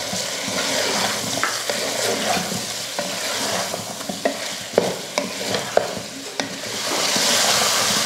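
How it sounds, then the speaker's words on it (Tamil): Chicken and potato pieces sautéing with salt in a pan for chicken biryani, a loud steady sizzle broken by several sharp scrapes and taps of a spoon against the pan. "சேர்த்துட்டு இதை நல்லா வதக்கி விட்டுறலாம்"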